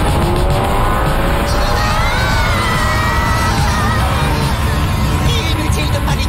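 A cartoon spacecraft brakes with a loud, sustained screeching whine like squealing tires, its pitched tones sliding and wavering over a dense roaring rush that fills the entire stretch.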